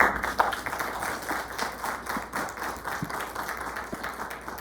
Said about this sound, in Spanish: Les pido un fuerte aplauso para nuestro invitado especial, Víctor Ronquillo.